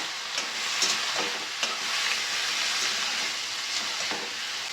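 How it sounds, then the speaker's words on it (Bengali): Bharali fish coated in turmeric sizzles steadily in hot oil in a pan while it is stirred, with faint scraping strokes over the constant close frying hiss. "হলুদ দিয়ে ভাড়ালিগুলো ভালো করে মেখে নিয়েছি, এবার দিয়ে দিচ্ছি। ভাড়ালিটা ভালো করে আমি এখন নেড়ে নিচ্ছি।"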